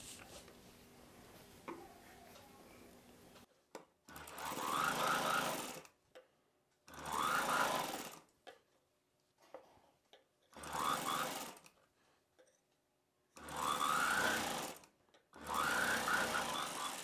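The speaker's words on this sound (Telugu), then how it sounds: "ఈ చివరన అంచుని ఫోల్డ్ చేసి కుట్టేశాను" A sewing machine stitches a cotton frock for kids in five loud, close bursts of steady whirring, each a few seconds long and separated by brief quiet pauses.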